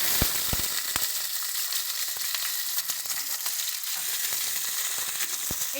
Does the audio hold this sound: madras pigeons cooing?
no